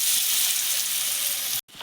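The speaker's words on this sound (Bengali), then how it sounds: "এবার আমি আলুটা ভেজে নেব।" Potatoes fry in a pan, giving a loud, steady sizzle that runs almost the whole stretch and then cuts off briefly near the end.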